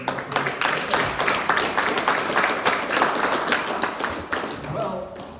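An audience at a meeting applauds, a dense, steady crowd clapping that runs the whole time at close range, with a faint voice showing near the end.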